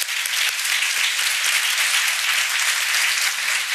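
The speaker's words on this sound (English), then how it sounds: "let's really give him a great round of applause" A large audience claps warmly at an AAPI women's recognition event honoring a man behind the program, a sustained, even roar of applause with no voices on top.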